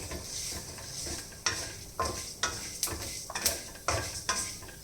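Fenugreek seeds and spices roasting in a pan for a saaru masala powder, with repeated scraping stir strokes and a light sizzle in a steady rhythm, close and moderately loud, no talking.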